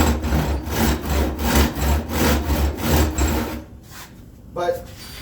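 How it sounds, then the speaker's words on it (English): Crosscut handsaw cutting through wood in steady back-and-forth strokes for about three and a half seconds, close and fairly loud, then stopping, followed by a brief lighter scrape or tap. "So I'm using the crosscut saw because I have such a long ways."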